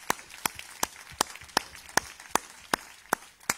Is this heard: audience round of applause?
yes